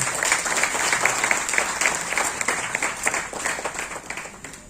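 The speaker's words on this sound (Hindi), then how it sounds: "तालियों से स्वागत करते हैं" An audience at a farewell ceremony in a government education office claps to welcome a new committee chair, steady applause that thins toward the end into scattered claps.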